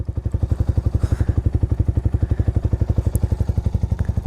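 A Yamaha YZF R125 motorcycle idling nearby, its single-cylinder engine thumping in a fast, even, steady pulse with a faint mechanical clatter and no voices.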